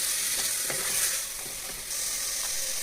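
Ginger, garlic and coriander paste sautéing in a pan for mutton biryani, giving a steady, close sizzle with a few soft stirring scrapes and no voices.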